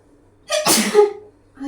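One loud, close allergy sneeze, sharp and explosive, trailing off with a short voiced tail.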